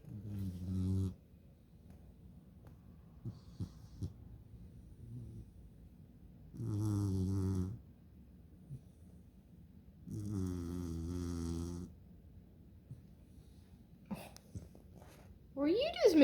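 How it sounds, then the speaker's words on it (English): A beagle puppy snores while asleep: three long, loud, low rumbling snores spaced several seconds apart with quiet breathing in between, and a brief sharper squeak near the end. "He's gonna snore too."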